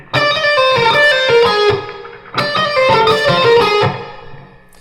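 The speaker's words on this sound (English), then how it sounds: "another hammer pull section" Overdriven electric guitar plays a fast hammer-on and pull-off lick from a guitar solo, two loud flurries of rapid notes with uneven, syncopated timing, each trailing off into sustain, with no talking.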